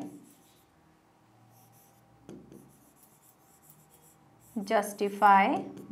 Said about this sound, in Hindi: अब यहां से लिखेंगे